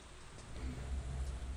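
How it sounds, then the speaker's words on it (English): A low, steady thunder rumble rolls through the Metal Gear Solid 2 game soundscape with a continuous rain-like wash over it, swelling slightly midway and staying fairly quiet, with no voices. "There's a little rumble,"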